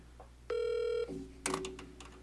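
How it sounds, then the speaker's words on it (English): A phone call is placed to a cheese-talk guest, with dialing and a loud electronic ringback tone sounding once, followed by a softer lower tone and brief clicks, close and alone with no talking. "So I'm going to get Sven on the phone"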